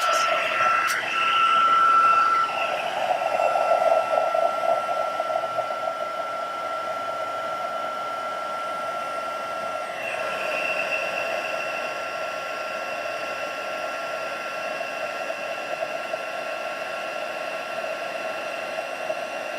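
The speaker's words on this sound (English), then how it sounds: "So I'm going to bring in these two pieces along with my heat tool." A craft heat tool warms up and runs, a steady, moderately quiet blowing hum with a faint tonal whine, a brief rattle near the start, and a slight shift in tone partway through, with no talking.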